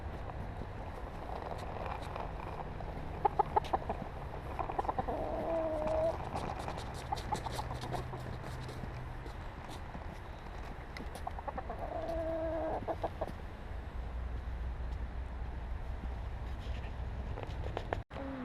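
A young New Jersey Black Giant rooster clucks softly nearby in a few short bursts, with quiet gaps between them and some faint background noise.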